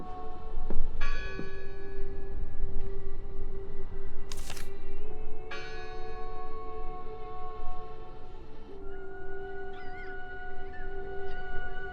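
A church bell tolls in the eerie daytime setting of the video game Draugen, several slow ringing strikes with long sustained tones decaying over a steady low ambient hum, with no talking.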